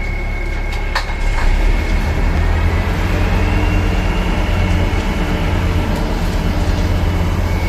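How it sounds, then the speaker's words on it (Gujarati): Loud, steady mechanical rumble of an Indian Railways rail bond maintenance vehicle running nearby on the tracks, with a constant droning hum and occasional metallic clicks. "આ મશીન જેસીબીની જેમ કામ કરે છે રેલવેના પાટા ઉપર"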